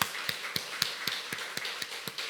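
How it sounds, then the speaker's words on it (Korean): A church congregation clapping in welcome during a Sunday service, heard as a regular rhythmic series of sharp, fairly quiet claps at a steady beat with no talk. "우리 다 같이 박수로 또 환영하겠습니다."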